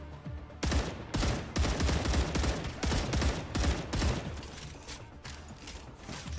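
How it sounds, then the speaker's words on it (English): Gunfire in the video game StarRupture, a fast string of repeated shots crackling in steady bursts over about six seconds, fairly close and without talk. "One of them just shot at me."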